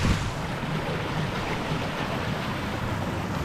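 A creek beside a riverbank along a hiking trail rushes past in a steady, broad wash of flowing water, continuous and fairly close, with no voices.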